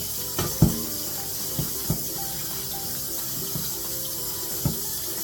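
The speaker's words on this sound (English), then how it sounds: "Let's go ahead and just rinse it with a colander." Water runs steadily into a colander while ingredients are rinsed for a toasted caprese, a constant close hiss broken by several light knocks and clunks of the colander.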